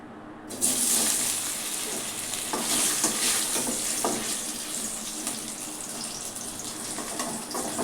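Boiled potatoes frying in a pan, a loud, steady sizzle of hot oil with occasional stirring scrapes, close up and free of talk.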